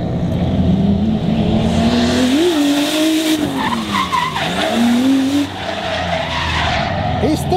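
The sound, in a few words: drift car tires skidding at Ebisu drift event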